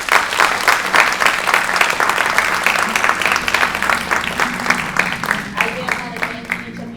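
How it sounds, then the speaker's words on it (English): Audience applause for a panel at a talk, a loud, steady round of clapping lasting several seconds and thinning toward the end, with a voice faintly under it. "if we can give the panel a round of applause"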